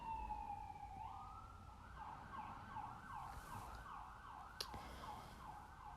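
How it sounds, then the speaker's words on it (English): Emergency vehicle sirens wail and yelp continuously outside at a steady moderate distance, with a rising and sweeping tone and a faint road rumble beneath. "I hope those sirens are going to go help somebody."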